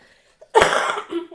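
Coughing from people at a table while eating chocolate-covered fruit with whipped cream, a short burst of close, loud, rough coughs after a faint murmur.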